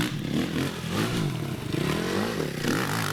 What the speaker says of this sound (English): hard on the throttle on that Mototech 450